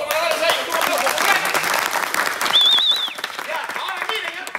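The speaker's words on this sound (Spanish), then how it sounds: "Muchachos, un aplauso para darles a ellos." Spectators at a Circo Royal show in Chilete in 2022 clap loudly, with voices shouting over the applause and a brief whistle rising partway through.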